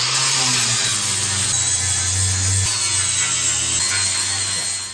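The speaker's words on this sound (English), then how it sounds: "What we are doing here with the grinder is cleaning off an area to be able to attach these little builder brackets" An angle grinder cleans off a patch of metal on an old vehicle to fit brackets, giving a loud, close, continuous abrasive whine and grind whose pitch shifts slightly as pressure changes.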